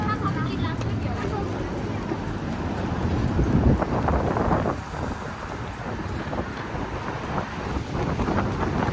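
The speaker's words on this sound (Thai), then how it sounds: "ลมแรงมาก" Strong coastal wind near Bondi Beach in Sydney roars and buffets steadily across the microphone, loud and constant, with rumbling gusts throughout.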